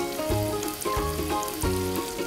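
Tomatoes sizzle in a frying pan for mutton ghugni, a steady crackle under louder tonal music with a repeating rhythmic pattern.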